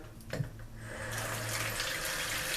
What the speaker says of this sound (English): we're going to cover the oxtails in water